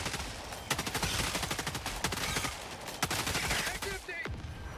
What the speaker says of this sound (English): The weapon, like, never ran out of ammo because it's a laser weapon.